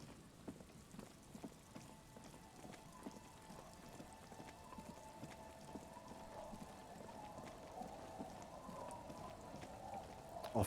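Rain in the video game Disco Elysium, a steady patter of drops on surfaces with a faint sustained tonal hum beneath, soft and continuous throughout.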